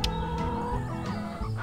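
Chickens on a Hay Day farm cluck in a short run of close, clear calls over a soft game background.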